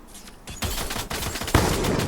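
Rapid machine gun fire from a video game, loud and close, in dense bursts that intensify partway through and continue without a break.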